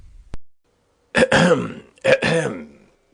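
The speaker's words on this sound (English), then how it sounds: "Oh, don't cough, Ernest. When one is dictating, one should speak fluently, and not cough." A narrator reading a comic stage play acts out a throat clearing: a tiny click, then two close, gravelly coughing rasps about a second apart, with no other sound around them.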